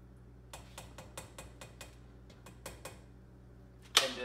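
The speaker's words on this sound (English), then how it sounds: "And so I'm gonna stir the salt in." A spoon stirring salt into a pot of Southern green beans, a quick run of light metallic clicks and taps against the pot, ending in a brighter scrape.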